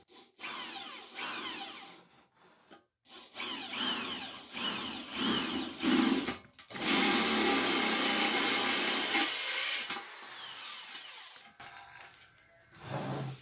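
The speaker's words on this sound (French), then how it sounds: "Moi, c'est ma perceuse avec le forêt adapté." Electric drill with a suitable bit boring holes through tanks, running in short bursts and then one longer continuous whine that stops and restarts near the end, close and loud with no talking.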